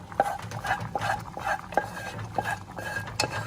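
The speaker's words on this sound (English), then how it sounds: "Scrape, scrape, scrape, scrape, scrape, scrape, scrape." A spoon scrapes and stirs sauce in a pot while beans porridge is being made, a rhythmic series of short metallic scrapes and clinks, close and moderately loud, with no talking.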